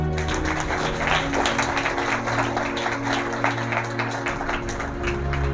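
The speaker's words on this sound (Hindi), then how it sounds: "हम जीवते परमेश्वर के लिए ताली बजाएंगे।" A church congregation claps together in steady, sustained applause, dense and continuous throughout, with a low hum beneath.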